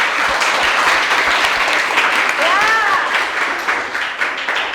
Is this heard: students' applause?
yes